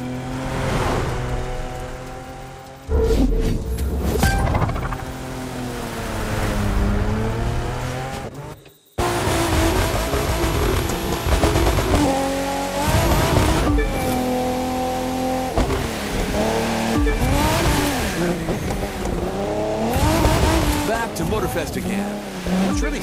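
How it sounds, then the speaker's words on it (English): Race car engines revving and tires squealing in the video game The Crew 2, switching from rally cars to racing vehicles at a motor festival on Oahu; loud continuous engine tones with shifting pitch and a brief drop in the middle, with talk over it. "Say goodbye to those rally cars, and let's get onto racing wheels."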